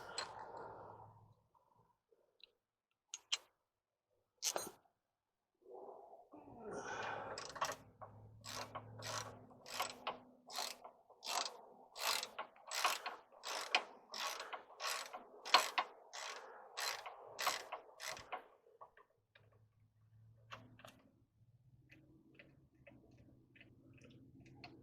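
A ratchet wrench tightens a half-inch bolt back onto the brakes of a Yukon Denali, giving a quick, close series of sharp clicking strokes in a steady rhythm with short pauses around it.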